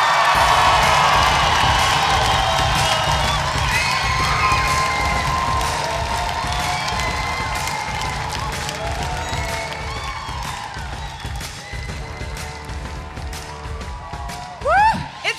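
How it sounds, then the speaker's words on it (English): A large hometown crowd at the Miss Earth 2015 coronation night cheers, whoops and applauds for Austria, a loud sustained roar with shouts that gradually eases over several seconds. "I have a funny feeling there may be some sort of reception from the crowd"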